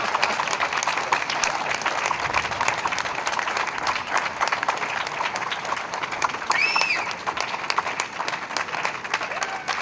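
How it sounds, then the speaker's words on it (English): Audience at a Celebrate Peace event in Dayton, Ohio applauding children, with loud, dense, continuous clapping that runs throughout, along with a few scattered cheers and a brief whistle. "One big round of applause for those wonderful kids."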